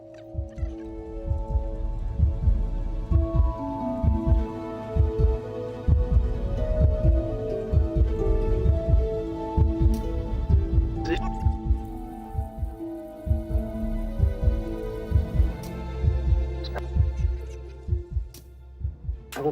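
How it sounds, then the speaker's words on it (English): Heartbeat in the video game Immortality: a steady, deep thumping pulse running throughout, loud and close, layered over low droning music and tonal swells. "It's a heartbeat."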